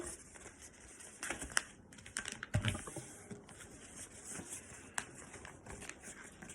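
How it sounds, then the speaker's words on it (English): A sheet of paper is folded in half into a paper jet, giving close, dry crinkles and sharp creasing rustles in short bursts, with no voices. "And then, fold it in half."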